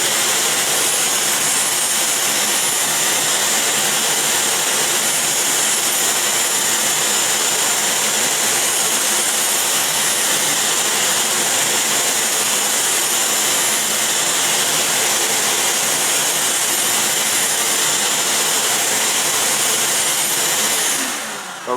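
An Incredible Edger skate sharpener grinds a figure skate blade with a shop vac hooked up, producing a loud, close, continuous high-pitched whine and roar that runs unbroken until it fades at the very end.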